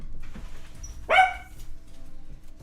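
A dog gives a single sharp bark, close and fairly loud, over a quiet low background hum, with no talking.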